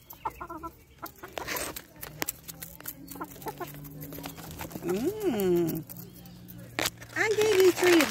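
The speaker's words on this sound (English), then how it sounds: "Yes, chickens like cicadas." Chickens cluck and squawk close by as they eat cicadas, with scattered calls and a louder rising squawk near the end, and a person talks intermittently underneath.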